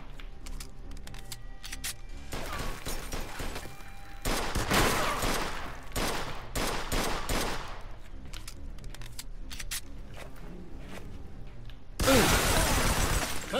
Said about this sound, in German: Pass auf, die schießen von oben!